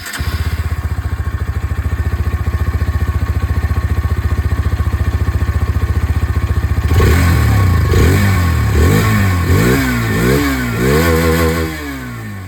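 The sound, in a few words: Hero Xtreme 160R 4V motorcycle exhaust sound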